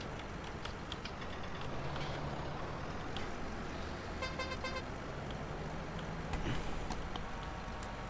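Reversing beeps from a truck in Farming Simulator 19 ring out in short repeated pulses over a steady engine drone, with a brief horn-like toot near the end.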